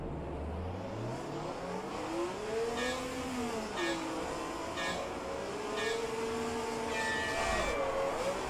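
A race car engine pulls away from a standing start at 1967 Monza in a racing game, with revs climbing through the gears, rising and falling sweeps, and a sustained, moderately loud engine note with gear changes.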